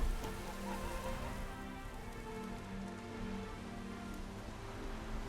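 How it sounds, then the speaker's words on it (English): Steady rain falls in The Witcher 3, a dense, even hiss of drops pattering on surfaces that carries unbroken at moderate level through the whole stretch, with no voices over it. "Looks like rain."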